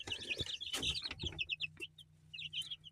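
Young crested chicks cluck and cheep in quick, uneven bursts close by, with short pauses between calls and no talking.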